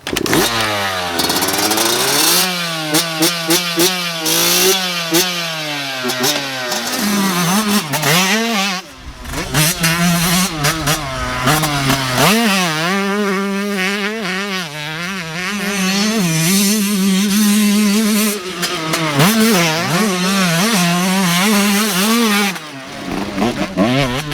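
A Yamaha YZ125 two-stroke dirt bike rips around a motocross track, its high buzzing engine revving up and down repeatedly through shifts and throttle blips, loud and close throughout, with a brief drop in the middle.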